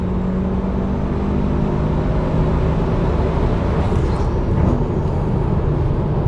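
A Mitsubishi Evo 7 GSR engine pulls hard while driving, a loud, steady, continuous drone of engine and road noise heard from inside the car, with no talking.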